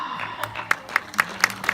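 Applause breaks out from the audience after a playful wand duel at a film premiere in Yakutsk, a few sharp bursts of clapping rising over crowd murmur and an announcer's voice.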